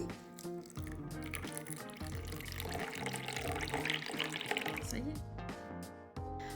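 Tap water runs steadily into a vessel to soak parboiled rice for a colorful rice dessert, a continuous splashing flow in a kitchen with music underneath.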